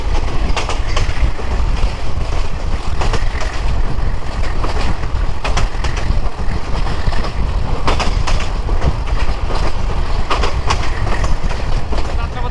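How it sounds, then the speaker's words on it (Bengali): A Balaka Commuter train runs on the Dhaka–Mymensingh line, a loud, continuous rumble and roar from inside with rhythmic clickety-clack wheel beats over rail joints throughout. "আমাদের বলাকা কমিটার ট্রেনটি চলে আসলো মশাখালী রেলওয়ে স্টেশন"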